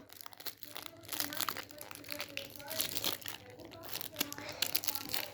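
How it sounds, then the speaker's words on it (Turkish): A sports trading card pack wrapper is torn open with close, crackly crinkling in short bursts, while someone talks throughout. "Şimdi ben şu kartımızı şöyle açalım"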